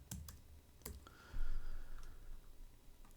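Computer keyboard typing heard close and quiet as a few scattered key clicks, with a faint hum in the background.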